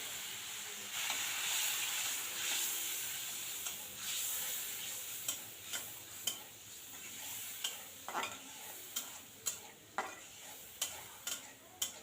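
Tomato paste hitting hot oil tempered with cumin seeds in a wok, a soft steady hiss followed by a series of regular scraping stir strokes, fairly quiet and close.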